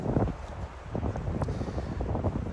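Strong, brutal wind at an outdoor disc golf tournament playoff buffets the microphone in uneven low rumbling gusts throughout, with no clear talking.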